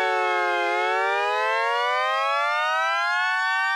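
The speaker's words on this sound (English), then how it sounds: "turn up the depth amount. That is, how much is the LFO going to control the pitch of the oscillators" A synth with its LFO pitch-modulation depth turned all the way up gives a loud, sustained, buzzy tone that dips and then slides steadily upward like a siren, heard alone.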